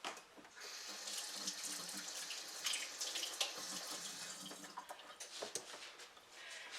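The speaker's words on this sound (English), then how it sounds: "Let me rinse my hands." Tap water runs into a kitchen sink while hands are rinsed under it, a steady, soft splashing stream at low volume with no talking.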